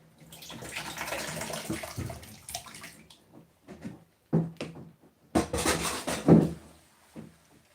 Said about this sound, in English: So this is tomato. So I'm going to be pouring it in here.